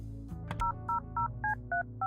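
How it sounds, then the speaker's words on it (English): A phone number is dialed on a telephone in Kathy Rain 2, with six evenly spaced touch-tone beeps after a brief click, clear and close with no talking. "I want to physically dial the numbers"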